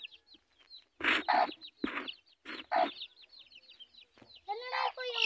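Chickens and young chicks, including blue chicks, cluck in several close, loud bursts with short pauses between, ending in a busier stretch of overlapping calls.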